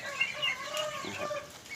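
Free-range farm chickens raised in a rice field cluck steadily and fairly close, with overlapping calls from several birds over a soft outdoor background.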